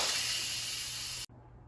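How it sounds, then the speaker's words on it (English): Steam hisses loudly and steadily from an Instant Pot's pressure valve during a quick release while cooking farro, then cuts off abruptly, leaving near silence. "let's quick release the remaining steam."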